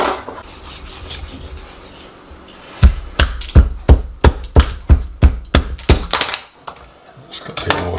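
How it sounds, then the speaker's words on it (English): A sharp knife chops and scrapes at ice in a small shed, a quiet rasping lead-in followed by about a dozen loud, evenly spaced cracking strikes, then softer scraping. "I'm just going to try and cut that off with a sharp knife and see if we can get down to get the ice out."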